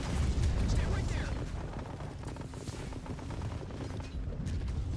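Explosive blasts from barrels beside a power plant in the RTS game Tempest Rising, a dense, continuous low rumble of detonations and battle noise with faint talk underneath.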